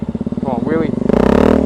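A Yamaha XT660Z Tenere single-cylinder motorcycle engine pulls hard during a wheelie, its pulsing exhaust note climbing and then surging louder near the end, while a rider's voice speaks over it.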